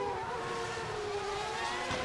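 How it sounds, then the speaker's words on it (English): A race car engine in a 1991 San Marino Grand Prix racing game drones steadily and thinly, sounding rough and unhealthy, with a faint wavering pitch and nothing else over it. "that engine doesn't sound healthy at all"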